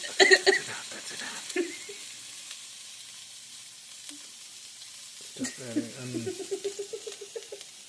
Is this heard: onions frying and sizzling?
yes